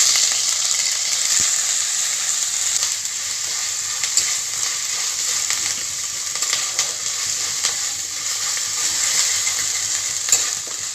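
A paste of ginger, garlic and onion fries in a pan in a home kitchen, giving a loud, steady sizzle and crackle with occasional scraping stir strokes throughout.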